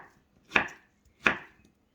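A knife cuts through peeled mango flesh on a board, making two crisp, separate chopping strokes about a second apart, close and fairly quiet, with no voices.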